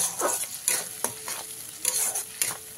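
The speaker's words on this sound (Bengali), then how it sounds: "মশলাটা দিয়ে খুব ভালো করে ভেজে নিতে হবে।" Spice paste for a bata fish curry fries in hot oil while a spatula stirs it, making close scraping strokes in a quick rhythm over a soft sizzle.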